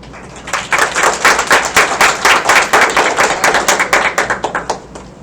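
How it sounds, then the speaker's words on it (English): Rhythmic clapping from an audience at a college honors night, loud and close, building over half a second into a steady, even beat that continues for several seconds with no talk over it. "Let's give another round of applause."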